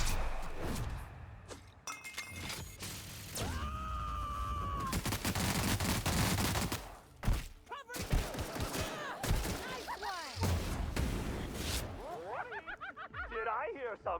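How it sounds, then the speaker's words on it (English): Gunfire in The Outer Worlds video game: sharp shots and bursts crackle and crash through a busy battle soundscape, with voices shouting over the shooting. "Shoot him, shoot him,"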